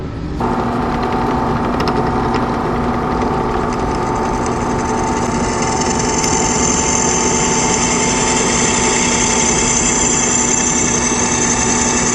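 A drill press runs steadily with a high motor whine, and the tone shifts midway as the bit cuts a hole for fuse box brackets. Loud and close, no talking.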